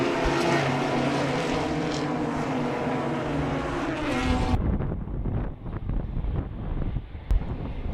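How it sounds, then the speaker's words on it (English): Race cars at a regional extreme festival rev hard and roar past a commentary booth toward Potters, loud engine drone with wind buffeting the microphone before a sharp cut to rougher, closer passing noise. "You'll hear the revs pick up, you'll probably hear them out the door as well of our commentary booth"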